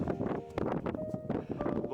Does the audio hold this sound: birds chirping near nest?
no